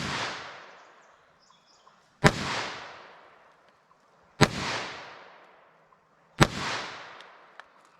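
A Taurus TX22 pistol fires CCI Stinger .22 LR rounds outdoors, four sharp cracks spaced about two seconds apart, each trailing off in a long echoing decay.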